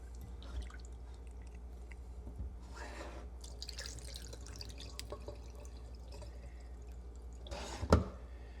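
Water sloshes and drips while lentils are rinsed in a kitchen, with soft trickles, a couple of brief pours and a sharp clatter near the end, all fairly quiet.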